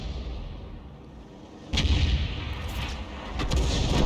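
The FV3805's 6 inch gun fires in a tank video game, a sudden loud boom with a heavy rumbling tail, followed by further crackling blasts and sustained roaring noise.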